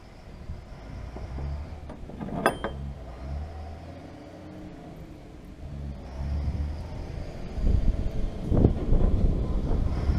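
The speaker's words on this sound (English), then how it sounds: "Sorry for the wind and the traffic." Gusty wind buffets the microphone as vehicles pass on a nearby busy road, low rumbling rising and fading, with a louder surge of traffic noise toward the end.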